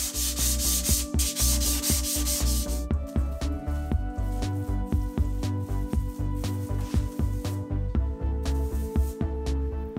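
Hand sanding of spackle-filled holes on a built-in cabinet panel, a steady scratchy rubbing in back-and-forth strokes throughout, close and fairly loud, with a brighter hissing burst at the start and near the end.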